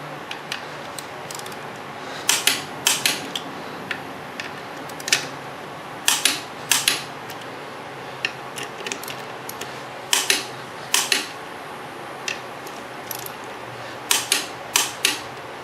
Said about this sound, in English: Torque wrench is already set to 60 or close enough.